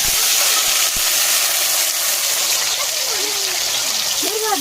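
Cut potatoes tipped into hot mustard oil in a wok set up a loud, steady hiss of frying that fills the whole stretch, with a voice talking faintly underneath.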